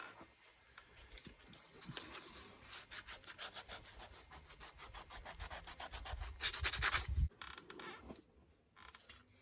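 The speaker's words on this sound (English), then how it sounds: "So that's the handle, scraped, sanded down a little bit." A handmade wooden axe handle is sanded with quick, rhythmic back-and-forth rubbing strokes, close up and fairly quiet, with a harder grinding burst near the end before it tapers off.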